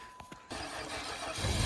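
Cold start of a Case tractor's turbo diesel engine outdoors: a couple of brief cranking clicks, then the engine catches into a rough, loud rumble that builds as it revs.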